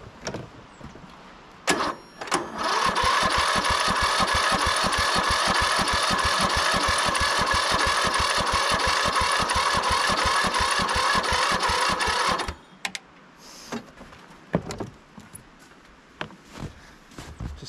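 A Briggs & Stratton engine on a Troy-Bilt Bronco lawn tractor cranks and then runs roughly with a loud, close, pulsing chug for about ten seconds before cutting out, followed by scattered clanks and handling noises.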